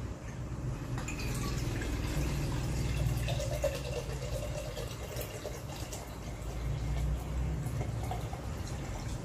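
Guyabano (soursop) juice, 500 ml, poured steadily into a container for a Filipino tower cocktail, a continuous close liquid rush and gurgle lasting the whole stretch with no talk.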